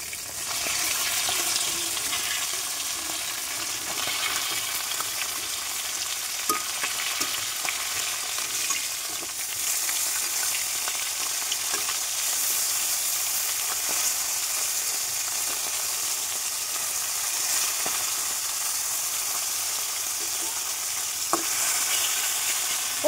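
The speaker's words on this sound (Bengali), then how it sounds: "মাছ ভাজাটা কিন্তু উল্টে দিয়েছি। আর এবার আর এদিকেও দেখো আমার নিম ফুলের মূল ফুলটা কত সুন্দর কিন্তু ভাজা হয়ে যাচ্ছে।" Fish and neem flowers frying in oil in a wok, a continuous bright crackling sizzle heard up close with occasional faint clicks, steady and without speech.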